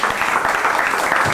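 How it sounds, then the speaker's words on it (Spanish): A Peruvian criolla music show audience claps after a call from the stage, a dense, even patter of many hands, close and fairly loud throughout. "Para que pido fuerte de palmas a todos ellos."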